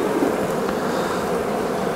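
Honey bees hum densely and steadily at an open Dadant hive during an inspection, a close, continuous buzzing swarm sound with no pauses.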